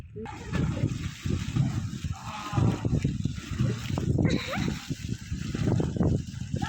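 Children swimming in a well make irregular splashes and slaps of water, echoing in the enclosed space, mixed with shouts and yelps and some nearby talking.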